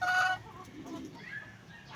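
Soft clucking of chickens, a short louder burst at the start followed by quieter scattered clucks, heard at a modest distance.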